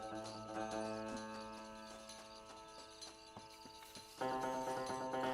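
A horse gallops in Red Dead Redemption, its hoofbeats drumming at a steady pace under a music bed, growing louder in the last second.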